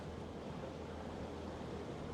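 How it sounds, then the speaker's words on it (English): Ocean waves wash around a Grand Soleil 44 sailboat under power at sea, a steady soft rushing of water and wind, faint and continuous, with no voices. "Got a few more waves coming"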